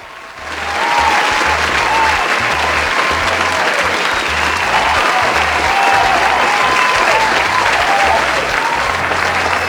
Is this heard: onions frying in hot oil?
no